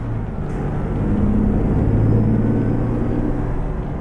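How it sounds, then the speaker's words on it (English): A heavy Ironwerx IW900 truck engine in American Truck Simulator drones steadily with a deep rumble, building slightly as it revs, with no talking. "What an absolute demon of a truck. And listen to that engine go"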